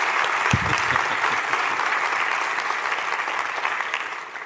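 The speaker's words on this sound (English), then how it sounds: "Let's give them a round of applause." An audience gives a long round of applause for a science team brought on stage, a steady wash of many hands clapping that stays even and fades slightly toward the end.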